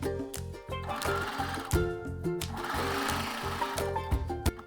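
A sewing machine runs in fast, even bursts of stitching, sewing elastic onto a bust garment, loud and close, with brief pauses and mechanical clatter between runs and no speech.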